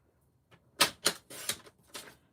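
Designer series paper is sliced on a paper trimmer in a quiet room: a few sharp, crisp cutting swipes in quick succession, close and clear after a short silent start, each stroke a brief bright rasp.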